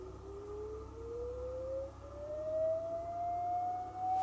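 Smartphone function generator app plays a thin sine test tone through the phone's small speaker, sliding slowly upward in pitch. Moderate level over a faint background hum, with no talking.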